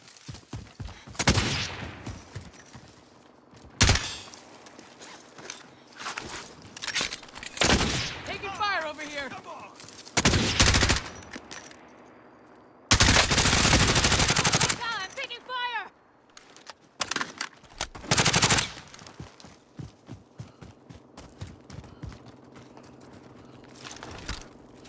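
Bursts of gunfire in a shooter video game, sharp, loud volleys and rattling mechanical clatter coming in irregular clusters separated by quieter gaps, with a long dense barrage in the middle.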